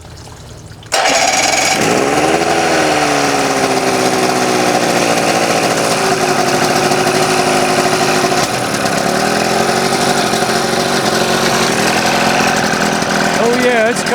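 An outboard boat motor with a sticking choke catches after about a second of quiet, then runs loud and steady with a shifting, slightly revving drone, while people talk over it.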